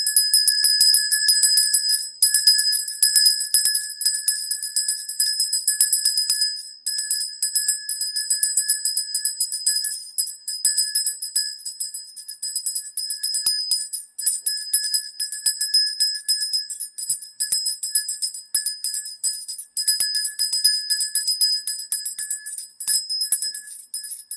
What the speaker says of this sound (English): So here goes the bell.